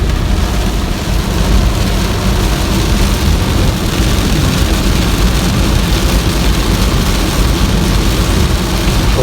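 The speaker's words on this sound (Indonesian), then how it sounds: "Hujannya lumayan deras ini" Heavy rain drums steadily on a Daihatsu Ayla on a toll road between Bakauheni and Palembang, with broadband road rumble from inside the moving car, loud and unbroken throughout.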